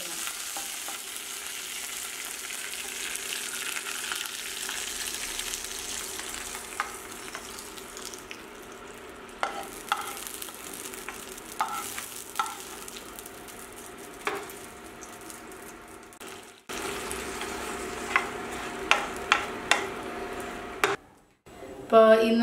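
Mustard seeds, green chili and curry leaves sizzle steadily in hot coconut oil, with scattered popping and crackling and a few stirring clicks, as the tempering for a koorka erissery curry is made; a voice is faintly heard.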